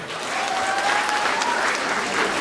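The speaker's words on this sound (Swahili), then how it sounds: "Wapi makofi ya Baby Top" A crowd claps steadily for Baby Top, an even, continuous wash of applause with no one speaking.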